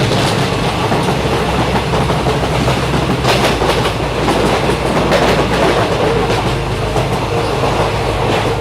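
A passenger train rolls along its rails after leaving Bolpur station bound for Rampurhat, a loud, continuous rumble heard from on board, with wheel clatter and rattling carriages throughout.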